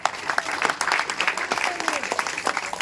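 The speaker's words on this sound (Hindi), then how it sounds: "और आज हम यज्ञकर्ता के लिए तालियां बजाएंगे जोर से सभी।" A crowd claps loudly for the performer of a havan fire ritual at a Shani temple gathering, a dense, steady patter of hands that lasts throughout, with voices talking and calling out over it.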